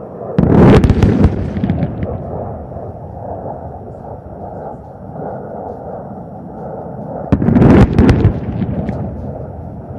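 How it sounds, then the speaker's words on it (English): Bombs dropped by Su-30 jets at a Pokhran air force firepower demonstration strike the target in two heavy, rumbling explosions several seconds apart. Each blast rolls into a long low roar, with some distant voices underneath. "Watch how the bombs glide towards the target."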